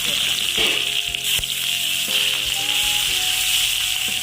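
Curry leaves and dried chillies fry in hot oil with a bright, crackling sizzle, punctuated by sharp pops and clinks of a utensil against the pan.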